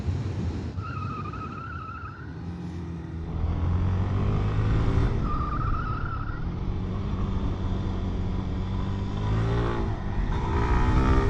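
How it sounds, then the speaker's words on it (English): A car accelerates hard from a standstill toward 60 mph, engine tone climbing through rising gear pulls with a shift partway, loud and close with a whine riding over the engine noise. "Let's see how fast we can 0 to 60 for the sake of the video."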